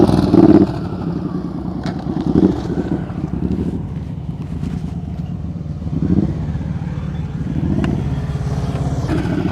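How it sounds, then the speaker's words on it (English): A motorcycle engine revs during slow-speed riding practice on a boulevard, with throttle swells rising and falling over steady engine drone and heavy wind buffeting. "I hear revving, but I would prefer to hear it just steady."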